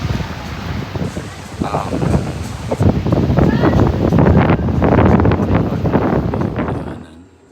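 Strong wind on a cruise ship deck roars and buffets the microphone continuously, with a voice talking through the gusts before it fades at the end.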